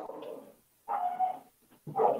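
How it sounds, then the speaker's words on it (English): A dog barks outdoors in three separate bursts of deep, rough barking with short quiet gaps between them, moderately loud and alone with no talk. "It's my dog outside. My dog's outside."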